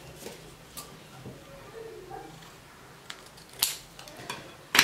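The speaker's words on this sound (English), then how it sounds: "Cut this into two pieces." Scissors cut a paper kite shape in two in a quiet room, giving a few soft snips followed by sharper crisp cuts near the end.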